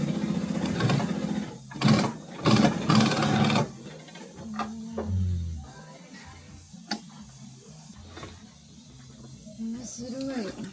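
Industrial sewing machine stitching the side seams of denim jeans in a Paris workshop, running in short bursts that start and stop, with mechanical whirring and ticks that fade under quieter handling noise.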